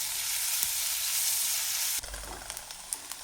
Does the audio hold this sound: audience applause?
no